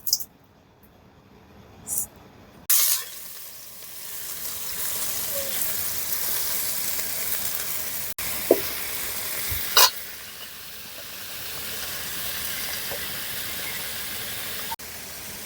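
Bitter gourd and potato hit hot oil in a pan, bursting into a loud, steady sizzle with occasional stirring clatters and a voice talking over the frying.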